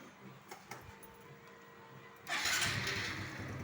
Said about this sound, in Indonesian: yang pertama-tama kita nyalakan dulu mesin kendaraannya